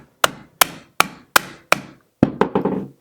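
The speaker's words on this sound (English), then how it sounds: "So I'm just going to take my rubber mallet and give it a good little whack right there." A rubber mallet strikes a WOOX Bravado rifle handguard in five sharp, evenly spaced whacks, then a quick cluster of lighter knocks and rattles, close and loud with no talking.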